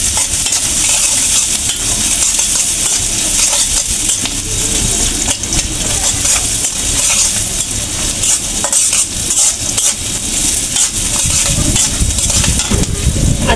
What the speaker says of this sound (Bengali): এগুলো একটু আমি হালকা ভাজিয়ে নিব